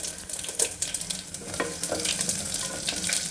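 Crushed garlic with mustard seeds frying in oil for a horse gram and pepper rasam hisses steadily up close, with scattered pops and light stirring scrapes over a continuous sizzle.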